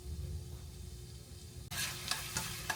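Taco meat sizzles in a pan for a home nacho-taco dinner. A low hiss is quiet at first, then bursts into a louder, brighter sizzle with crackling pops partway through, and no one speaks.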